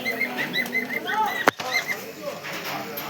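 Pigeons, kept among various birds for sale, coo in soft repeated bursts close by, with a single sharp wing flap midway through.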